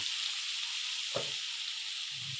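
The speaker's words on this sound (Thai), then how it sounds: "ต่อไปก็จะเอากุ้งปลาหมึกลงผัดค่ะ" Shrimp and squid sizzle steadily in a hot pan as they are stir-fried, with a brief scrape of stirring partway through and another toward the end.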